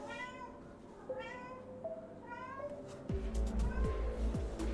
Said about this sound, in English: My cat is back.